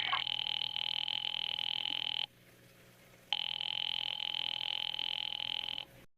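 A telephone rings in a radio play, two long electronic ringing bursts separated by a short pause, clear and steady.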